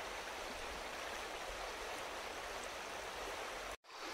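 A river splitting around an island and flowing on, a steady close rushing wash of water heard alone for about four seconds before a brief cut.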